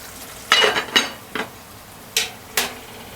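A metal lid clatters onto a cooking pot of stewing cow's kidney, five sharp clanks and scrapes in quick irregular succession, close and clear with no talking.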